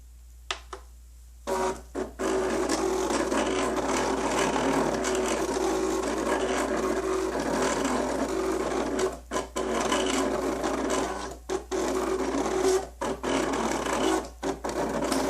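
A Cricut Personal Cutter CRV001 cuts a stencil with a continuous mechanical buzz and whir. The motor is close and steady, with a few brief pauses and short bursts near the end.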